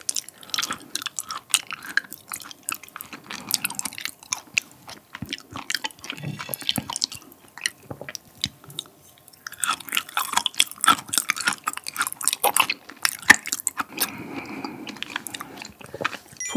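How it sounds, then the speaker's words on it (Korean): Raw small beef liver being chewed close up in a mukbang, wet squishy smacking and crunch-like clicks in irregular bursts, a pause around nine seconds, then more chewing, with no talking. "과연 일반 간과 얼마나 다를지 먹어볼게요."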